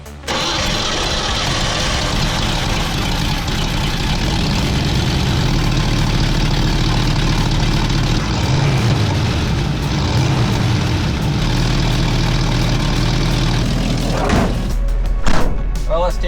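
An old beater truck cranks and catches, then settles into a loud, steady rumbling idle that runs on close by for several seconds, with a few clunks and knocks near the end.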